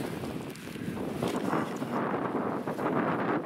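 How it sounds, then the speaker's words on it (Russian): Strong wind roars steadily against the microphone, a constant buffeting rumble with no voices. "Ветрище вообще сегодня конкретный."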